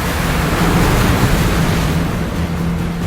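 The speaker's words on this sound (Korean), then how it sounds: "투망 장소에 가까워지자 47톤에 육박하는 어선의 무게를 가늠케 하는 엄청난 물보라." Heavy sea spray and rushing water around a 47-ton fishing boat heading out to sea, a loud continuous roar of churning waves and wind close by.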